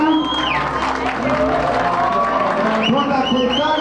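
Guests clapping and cheering at a debutante's fifteenth-birthday ceremony, steady applause and crowd noise throughout, with music or voices mixed in.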